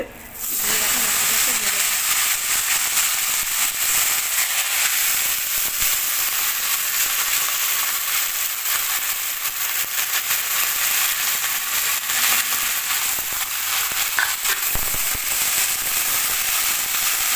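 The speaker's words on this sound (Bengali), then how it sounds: "এবার কড়াইতে তেল দিয়ে দিয়েছি, অল্প একটু তেল দিয়ে দিয়েছি। এবার শাক দিয়ে দেবো" Fenugreek greens hit a little oil in a kadai and sizzle loudly, a dense, continuous hiss that holds steady nearly throughout, with a few faint crackles.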